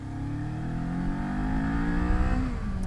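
A Kawasaki Z400 motorcycle accelerating hard, its engine note rising steadily through the revs as it pulls away, loud and close with no talking.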